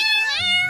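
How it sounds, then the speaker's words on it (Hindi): A cat gives a single drawn-out, wavering meow, loud and close, alone with no other sound. "अरे ले, बिल्ली तो रोने लगी।"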